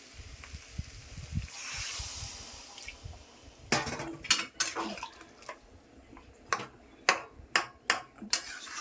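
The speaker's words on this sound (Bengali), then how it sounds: "আমি এখন জল দিয়ে দিচ্ছি" Water splashes into a cooking pot of well-fried vegetables with chickpeas, taro and potato, a steady pour of hiss and spatter followed by a run of sharp metallic clinks and taps from the pot and utensils.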